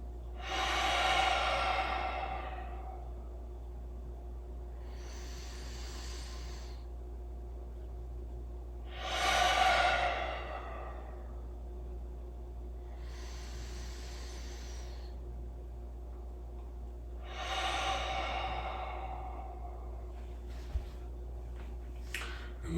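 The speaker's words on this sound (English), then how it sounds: "We're going to breathe in 3 big breaths and 3 big breaths out through our mouth." Deep breaths drawn in through the nose and let out through the mouth during a back-mobility stretching routine, a slow, even cycle of about five soft airy breaths alternating stronger and gentler, with no talking.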